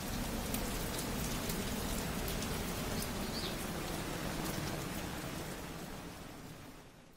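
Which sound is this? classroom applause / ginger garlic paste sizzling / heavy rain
heavy rain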